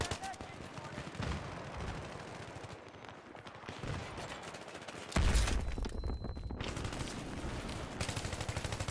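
Battlefield 3 gameplay gunfire, with rapid bursts of shots and clattering fire mixed with battle noise, including a sudden loud blast midway, fairly busy and continuous throughout.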